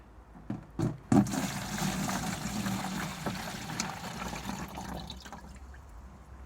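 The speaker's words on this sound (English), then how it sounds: "Pour that litre into here." A litre of liquid plant feed glugs and pours into a container outdoors on an allotment, starting with a few knocks, then a steady close liquid rush that gradually fades.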